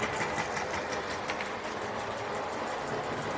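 A small Hornby model steam train pulling three coaches runs along, chuffing in a steady, quick rhythm with a faint mechanical whir underneath.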